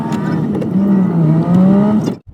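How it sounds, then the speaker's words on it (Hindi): A car driven along a road near the Uttarakhand–Himachal border, its engine holding a steady hum that rises slightly in pitch, close and loud, then dropping off abruptly at the end. "और मैं चला रहा हूँ गाड़ी।"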